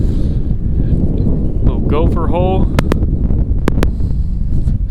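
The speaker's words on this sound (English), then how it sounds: "It's super windy out here." Strong wind buffets the microphone outdoors at a coyote trapping site, a loud constant low rumble with someone speaking briefly over it and a few sharp clicks.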